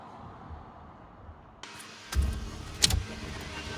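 A custom-built car's ignition switched on: near silence, then a steady electrical hum starts with two short, louder thumping bursts close by, no talk.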